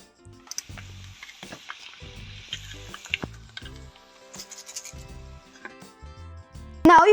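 Onions caramelising in a pan, stirred with intermittent scraping and soft sizzling, ending in a sudden loud clatter.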